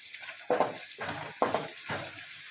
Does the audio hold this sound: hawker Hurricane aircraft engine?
no